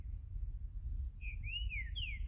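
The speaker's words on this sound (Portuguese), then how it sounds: "Olha que cantoria, que passarinho." A green-winged saltator (trinca-ferro) sings a few clear, sliding whistled notes over a steady low rumble of background noise, moderately near and alone without talk.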